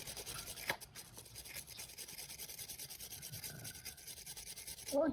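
A brush scrubs residue off a spark plug with a continuous, fairly quiet rasping rub, steady and close, ending in a brief louder scrape and knock.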